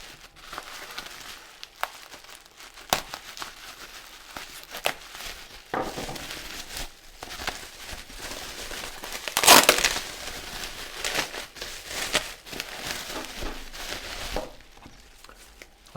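Crinkling and crushing of packaging material while a Leica M11-P camera is unwrapped, with irregular rustles and crackles and a louder burst of crumpling midway, close and fairly quiet, with no talking.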